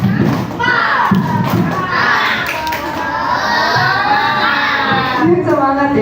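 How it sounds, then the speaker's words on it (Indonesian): Sixth-grade pupils in a classroom perform a rhythmic spirit clap, with loud thumping claps in a chanted pattern and children's voices chanting along throughout. "Yuk, tepuk semangat dulu yuk."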